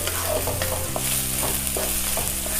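Egg fried rice crackling loudly in a hot pan as green spring onion goes in, a dense sizzle broken by quick stirring scrapes, close and without talk.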